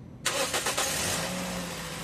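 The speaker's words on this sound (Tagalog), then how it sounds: "pa-start ko na itong makina" A Toyota Vios engine cranks and catches abruptly, then settles straight into a steady, fairly loud idle close by with no voices.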